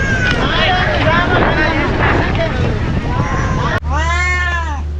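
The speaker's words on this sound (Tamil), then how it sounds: "ஹலோ இலங்கை பூனை" A cat meows once, loud and close, right after a stretch of blustery wind and boat noise on the way to Nedunthivu island off Sri Lanka.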